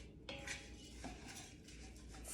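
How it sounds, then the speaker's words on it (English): Kitchari being sautéed with spices and stirred in a single pot, giving steady scraping and clinking of a utensil against the pot over a continuous low sizzle, close and moderately loud. "you go ahead and just saute this with the spices. So you just mix it around"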